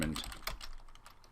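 A short burst of computer keyboard typing as a title name is entered, soft, quick keystrokes close by at low level.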